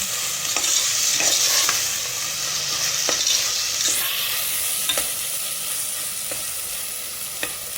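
Onions frying in a pan for mutton gravy, with steady loud sizzling throughout and sharp periodic scrapes of a spoon stirring them, no voices.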